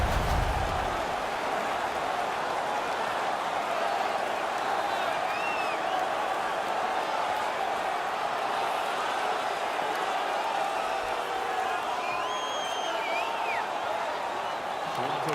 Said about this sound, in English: The crowd is now engaged again.